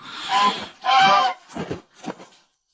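A goose honks four times in quick succession, loud and close, the first two calls strongest and the last two shorter and fainter.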